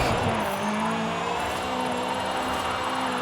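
A 1985 Toyota Sprinter Trueno drifting in Forza Horizon 5 fills the mix with a steady, loud engine drone. A faint tire squeal runs underneath it, and no voice is heard.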